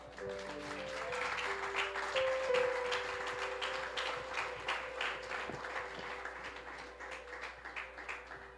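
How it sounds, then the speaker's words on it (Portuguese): A church congregation claps during an online worship service, a lively round of applause rising over a sustained organ or keyboard chord and gradually thinning toward the end, moderately distant. "dê uma rica salva de palmas ao Rei Jesus"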